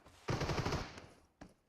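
A quick burst of rapid automatic gunfire from a P90 in the mobile game PUBG Mobile, a dense rattling volley followed by a single sharp shot, heard faint in the background.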